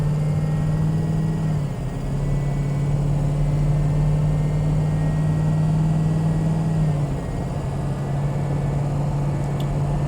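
A 2005 Ford Excursion Eddie Bauer with a 6.0L Powerstroke diesel, two-wheel drive, drives under a steady drone of engine and road noise, with the pitch holding and then stepping down as it shifts gears.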